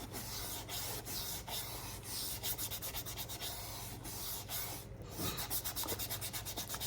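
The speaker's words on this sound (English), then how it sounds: "So we're just going to take some worn out sandpaper. Some good old hand sanding." Worn-out sandpaper rubbed by hand along leather boot edges, a faint, soft scratching in steady repeated strokes over a low background hum.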